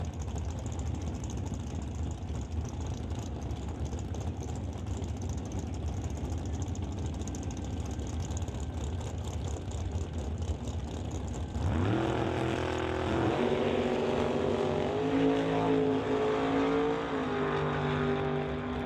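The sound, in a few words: drag racing cars, 55 Chevy Bel Air, at start line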